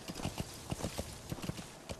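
Horse hooves clip-clopping at a steady walking rhythm in Metal Gear Solid V: The Phantom Pain, moderately close and fairly quiet, with no talk over it.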